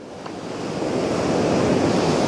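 Ocean surf washes in at the shore and builds steadily from a quieter start into a loud, continuous roar of breaking water, with wind rumbling on the microphone.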